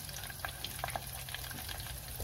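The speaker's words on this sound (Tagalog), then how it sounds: "dito na, prito na natin yung karne. Karne yung baboy." Pieces of pork sizzle in a pan for tokwa't baboy, a steady low hiss broken by small pops and crackles, heard close with no talking.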